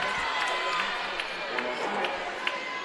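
Spectators in a gym cheer and shout during a high school state volleyball semifinal, a steady wash of crowd noise with scattered yells and claps.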